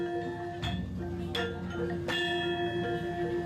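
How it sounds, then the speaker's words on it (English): Tree gong in Avatar film music, struck three times at roughly even intervals, each hit a resonant metallic clang with ringing overtones over a sustained low drone. "Boom, tree gong."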